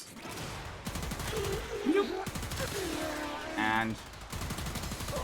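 Shots from the Latum secondary weapon in the video game Warframe ring out in quick bursts at the start and end, while someone talks over the middle and game effects chime in between.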